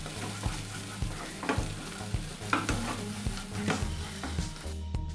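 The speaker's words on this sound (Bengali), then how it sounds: "আমাদের এই ইয়ালো ক্যাপসিকামটা ফ্রাই হয়ে গেছে ভালো করে" Yellow capsicum stir-fried over medium flame for Schezwan fried rice, with a steady sizzle under repeated scraping stirs of a spatula against the pan, close and moderately loud, no voices.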